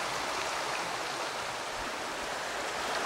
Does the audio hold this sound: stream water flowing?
yes